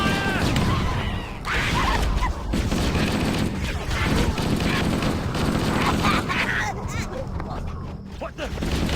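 Weapons fire in Halo: Combat Evolved, a dense, continuous battle din of rapid gunshots and crashes that runs throughout, with voices shouting over the fighting.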